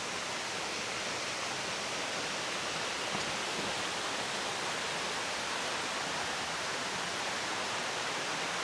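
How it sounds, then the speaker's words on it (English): Creek water spills steadily down a series of small cascading waterfalls at a trail crossing, a dense, even rushing hiss that stays constant and close, with no voices. "It's like multiple little waterfalls all the way down."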